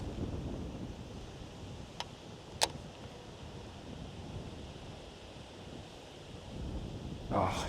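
Wind blowing over open water during kayak bass fishing in hot weather, a low steady rushing with a couple of sharp knocks and a brief splash near the end, no speech.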